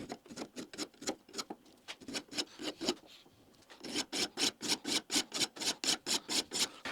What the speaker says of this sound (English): I might as well use that to hold it while I just file off some of the sharp edges